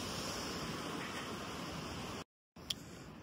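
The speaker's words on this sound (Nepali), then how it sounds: "झरना छ।" A waterfall on the Manaslu Circuit trek in Nepal roars as a dense, steady rush of water that fills the scene. A brief cut to silence breaks it before the same rush returns.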